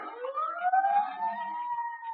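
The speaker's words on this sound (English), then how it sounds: "I said sirens." Sirens approaching in a radio drama, a rising wail that climbs in pitch and sustains, fairly clear and alone with no talk over it.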